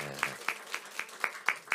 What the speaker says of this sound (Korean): 원하나 자매님 따뜻한 박수로 환영했습니다